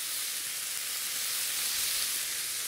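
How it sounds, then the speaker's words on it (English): Mussels and capers sizzle in a hot pan, giving a steady, close, even hiss of frying that continues throughout without talk. "we're gonna take some of our capers, put them in the pan"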